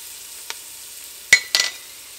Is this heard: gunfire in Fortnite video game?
no